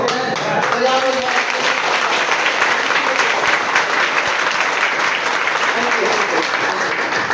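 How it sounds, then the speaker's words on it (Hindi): An audience claps steadily and densely throughout, a sustained wash of hand-clapping from a large crowd with faint voices mixed beneath it. "बढ़िया चीज है ताली बजाना"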